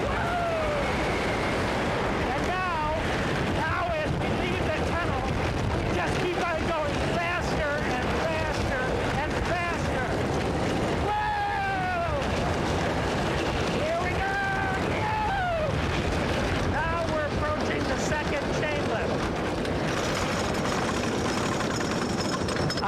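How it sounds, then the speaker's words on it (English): A roller coaster ride plunges through a tunnel: loud, continuous rushing wind buffets the microphone while riders' screams and shouts rise and fall over the roar for the whole stretch. "This coaster is absolutely phenomenal."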